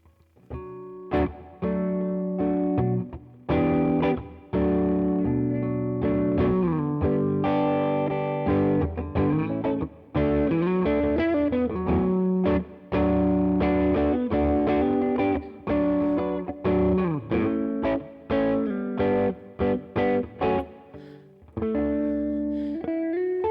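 An electric guitar is played through a Tone King MK2 amp with reverb on, giving a lightly driven tone. Chords and single-note phrases ring out in bursts separated by short pauses, with no talking over them.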